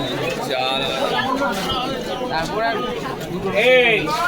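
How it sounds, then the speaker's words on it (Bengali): Busy crowd chatter at Mongla Haat saree market in Howrah, a steady babble of many nearby voices with distinct talkers standing out over the din. "ভিড়ও হয়েছে অনেকটাই"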